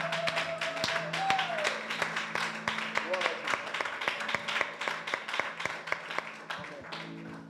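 Church congregation clapping in a steady rhythm during worship, the claps sharp and regular under a sustained keyboard tone and voices.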